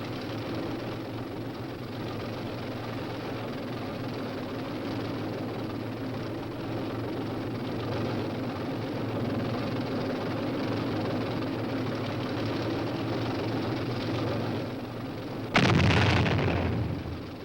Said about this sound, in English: the powerful new M48 Patton tanks swing into action